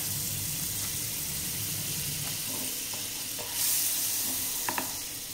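Butter sizzles in a kadhai pan at the start of making a broccoli salad, a soft steady crackle with light scraping and a couple of small clinks near the end, no one speaking.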